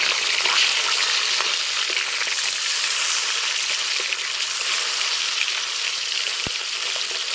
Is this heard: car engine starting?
no